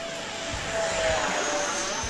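An E-flite F-15 Eagle model jet with a 64mm electric ducted fan on 4S power passes by in flight, its rising whooshing whine swelling and fading at moderate distance.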